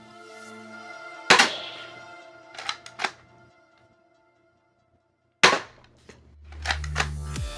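A Dart Zone Pro Mk 2.1 foam dart blaster fires ruby darts in sharp, loud single shots, with two separated bursts of pops and clacks and a quiet gap between them.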